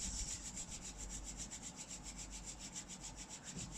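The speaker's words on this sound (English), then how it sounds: "Rub your palm, raise the head." Palms rub together in a steady back-and-forth rhythm, a soft close swishing friction repeating about four times a second with no talking.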